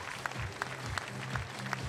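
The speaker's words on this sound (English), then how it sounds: "The crowd getting right behind them." At a recurve women's team archery gold match between Italy and Germany at a Berlin World Cup, a crowd claps in a steady rhythmic beat, with sharper accented claps landing at regular intervals.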